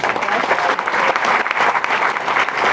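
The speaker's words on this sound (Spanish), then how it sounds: "Le vamos a dar un fuerte aplauso al Señor." Strong, sustained applause from a congregation at a Catholic prayer group retreat, a loud, even wash of many hands clapping together without pause.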